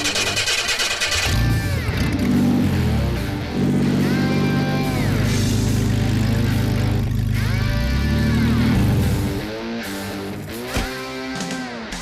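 Engine of a DIY scrapheap-built fire engine revving loudly and unevenly, rising and falling in several surges with a rough, strained tone, running alone without voices.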